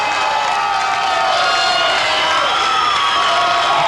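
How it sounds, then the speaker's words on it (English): A crowd cheers loudly and without pause in the stands at a 2003 high school baseball game. Shouts and whistles, some high and youthful, blend into a dense, roaring wall of sound. "And their crowd rises."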